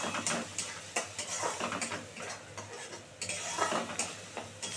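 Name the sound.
spice paste (masala) being stirred and fried in a pan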